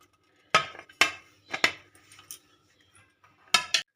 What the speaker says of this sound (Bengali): এবার আমি বাটিটা তুলে নেব